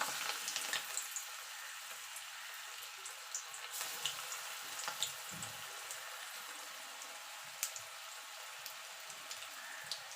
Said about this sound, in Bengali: এবার আমি বড়াগুলো ভেজে নেব।